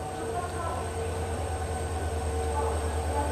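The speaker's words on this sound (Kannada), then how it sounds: "ನೋಡ್ಬೋದು ಟ್ರೈನ್ ಅರೈವಲ್ ಆಗತೈತಿ ಇಲ್ಲಿ" The 12780 Goa Express, Hazrat Nizamuddin to Vasco da Gama, pulls into platform 1 with a steady heavy rumble and faint wheel squeal, continuous and moderately loud throughout.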